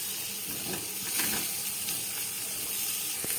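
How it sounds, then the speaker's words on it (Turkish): Mushrooms and garlic sautéing over high heat in a pan give a steady, broad hiss and sizzle with faint crackles, close and continuous without talk. "Şimdi yüksek ateşte sotelemeye başlıyorum."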